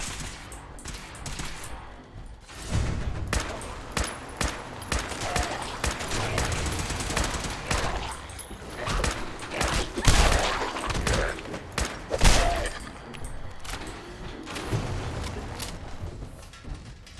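Sustained Fallout 4 firefight with rapid automatic gunfire and scattered single shots, bursts rising and falling over about seventeen seconds, loud and close with a dense combat background.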